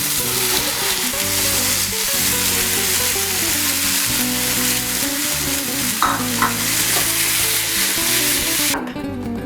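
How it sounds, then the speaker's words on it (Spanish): Ground beef sizzles steadily in vegetable oil in a pan for burrito filling, a dense, continuous frying hiss with occasional stirring scrapes, heard close up over a background of music. "sofreír la carne molida con un poco de aceite vegetal"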